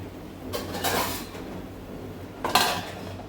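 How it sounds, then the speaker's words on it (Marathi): A lid goes onto a cooking pot, heard as two brief metallic clatters about two seconds apart, the second sharper and ringing slightly, in an otherwise quiet kitchen with no talk. "आता याच्यावर झाकण ठेवायचं आहे"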